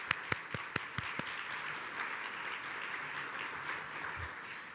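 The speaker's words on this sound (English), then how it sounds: "let's give the museum a wonderful round of applause for hosting us" An audience at a Columbus Metropolitan Club forum in a museum breaks into applause: a few separate, crisp claps open it, then they merge into steady, moderately quiet clapping from the crowd.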